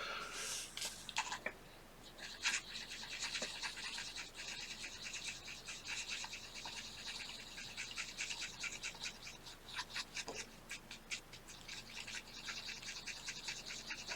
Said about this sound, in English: Make sure you mix this stuff up really good.